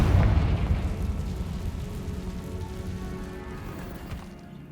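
A Confringo blasting spell explodes in the video game Hogwarts Legacy, a loud low boom at the start that decays into a long rumbling, crackling tail, with no one talking.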